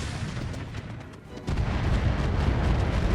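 Weapons fire at a Battlemaster mech in the video game Roguetech, a dense rumbling barrage of booms that swells sharply halfway through into a louder, sustained low roar.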